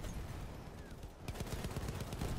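Rapid video-game gunfire bursts, a clustered stream of sharp cracks that thickens and grows louder partway through, continuous and close, with no talk.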